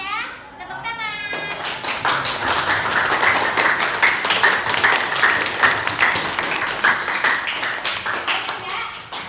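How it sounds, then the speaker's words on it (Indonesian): A classroom of schoolchildren claps together in sustained, fairly loud applause with dense overlapping hand claps, kids' voices mixed in, after a brief quieter opening. "Semangat ya, tepuk tangan."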